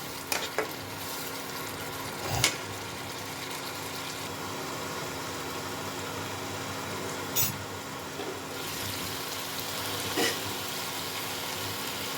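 Spice paste for dum aloo sautéed with a little water in a pan, a low, even sizzle continuing throughout, punctuated by a few brief knocks and scrapes of stirring.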